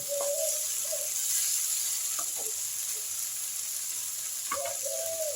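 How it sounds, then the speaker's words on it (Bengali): Fenugreek leaves fry with spices in a pan for a methi malai egg curry, giving a constant hissing sizzle with a few faint tonal sounds over it. "মেথি পাতাটা আমার মশলার সঙ্গে আমি কষে নিচ্ছি"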